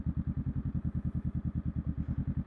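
A motorcycle engine running while the front brake is held, a close, loud, rapid even thumping idle chug, about ten pulses per second, steady throughout with no talking.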